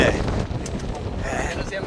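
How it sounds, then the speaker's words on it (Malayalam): Strong wind buffets the microphone on the front deck of a ship during a free ferry ride in America, a steady close roar with water and hull rumble beneath, no clear pauses. "ഇവിടെ നല്ല കാറ്റ് ഇവിടെ കേട്ടോ."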